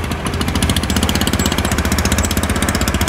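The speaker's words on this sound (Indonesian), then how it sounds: "Ini tapi kayak suara knalpotnya bocor ya teman-teman." A motorcycle engine with a leaking exhaust runs loud and close, giving a steady fast chugging put-put with a raspy, ticking edge, continuous throughout and with no voices.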